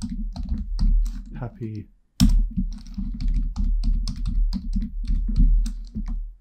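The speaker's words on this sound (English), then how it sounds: "Then I can go ahead and add in some text if I want to up here." Fast, close key clicks from a computer keyboard come in steady bursts with a brief pause, while a voice talks over the typing.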